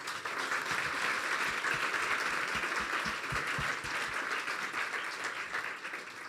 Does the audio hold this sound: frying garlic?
no